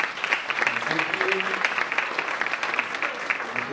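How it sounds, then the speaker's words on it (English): An audience claps steadily for a few seconds, a dense, even patter of hands filling the room with a few faint voices mixed in. "how about a round of applause for Pastor Mark?"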